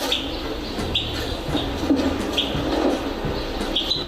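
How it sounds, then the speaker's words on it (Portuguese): Bird calls from a sound installation in an art exhibition: soft cooing and chirps recur every second or so over a steady airy background hiss, fairly distant and even. "Sensações são despertadas com o sonoro Pássaros, de Aline Dias, que conduz o visitante a uma viagem bucólica."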